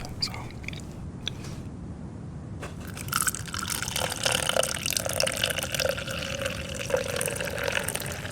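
A can of nitro soda is poured fast into a glass, starting with a few soft clicks and rustles, then a loud, sustained gushing, fizzing rush of liquid close by.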